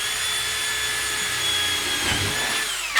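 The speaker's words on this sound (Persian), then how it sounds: "این دریل رو می‌بینید، این دریل مخصوص آهنه" Power drill fitted with a metal bit boring through iron while light fixtures are installed in a new house, a sustained high whine with a steady tone, getting rougher and grinding as the bit bites near the end.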